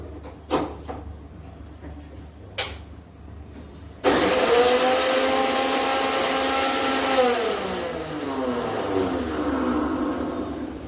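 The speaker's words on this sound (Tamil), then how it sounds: "மிளகு ஜீரகத்தை இது தேங்காயோடு சேர்த்து அரைச்சிக்கணும்" A mixer grinder churns pepper, cumin seeds and coconut, starting abruptly after a few knocks and then running loud and close, a steady whirring roar with a whine that bends in pitch as the load shifts.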